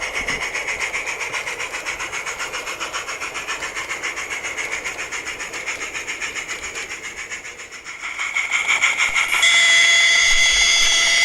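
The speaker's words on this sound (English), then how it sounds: "the train makes its way down the line to Bickerton." Peckforton Light Railway train heading down the line toward Bickerton from Bulkeley Station, a rhythmic chuffing beat pulsing steadily for several seconds before fading, then a brighter hiss and whistle-like tones rising near the end.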